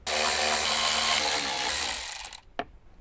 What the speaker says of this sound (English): Using the number 5 Allen wrench, you just take off these 4 screws that hold the speaker cover on